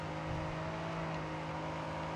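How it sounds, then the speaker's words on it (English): Race car engine held at full throttle in the Grid 2 racing game, a steady loud droning roar with no letup and no voices. "Pretty much through this whole race, I have the throttle down"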